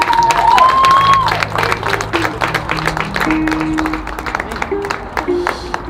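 Wedding guests applaud with steady, dense clapping through a church hall, loud at first and then fading slightly, with organ or keyboard notes playing beneath.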